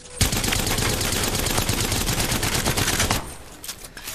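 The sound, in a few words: Havoc rifle firing full auto in Apex Legends video game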